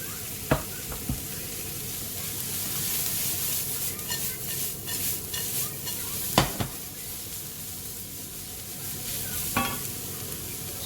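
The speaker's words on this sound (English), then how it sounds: "So I'm going to put in some carrots in here." Sliced carrots stir-fry in hot oil in a pan for hakka noodles, giving a constant close sizzle with occasional sharp scrapes and clanks of a utensil stirring.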